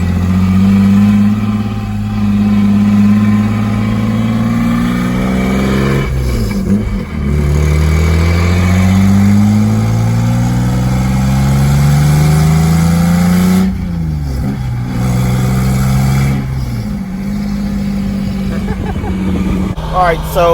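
A Lexus IS300 with a manual transmission swap revs loudly and close on its first drive, the engine pitch climbing repeatedly through gear changes with brief drops between pulls.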